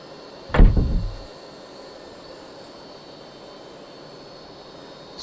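A single short clunk and whoosh as the landing gear retracts on a Hawker Hunter jet in a flight simulator, fading within a second over a steady engine hum that continues alone.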